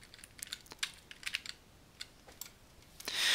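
Computer keyboard keys are tapped in scattered quick bursts to steer a free camera with WASD controls, light close clicks with short gaps between them, ending in a brief louder rush of noise.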